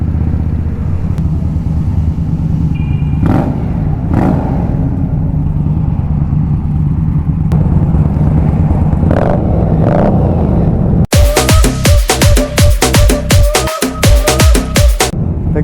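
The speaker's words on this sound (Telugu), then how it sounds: "సో ఇక్కడ ఆగి ఎగ్జాస్ట్ నోట్ వినిపిస్తాను." A superbike worth about 20 lakh idles, then is revved hard near a tunnel. A steady rumble runs throughout, and near the end it breaks into loud, sharp, rapid bursts of exhaust crackle, close up with no talking.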